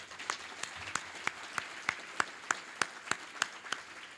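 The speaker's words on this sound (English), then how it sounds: "Can we have another round of applause for them?" Applause for award recipients at an evening event comes through as a sparse run of about a dozen sharp, evenly spaced claps at a slow, steady beat over a quiet background.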